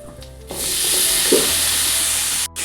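Koorka, Chinese potato, tipped into a hot pan for a stir-fry, bursting into a loud steady sizzle and hiss that holds for about two seconds, with a brief drop near the end as it is stirred.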